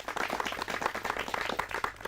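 An audience applauds, many hands clapping in a quick, dense patter that stays fairly even for a couple of seconds, moderately distant.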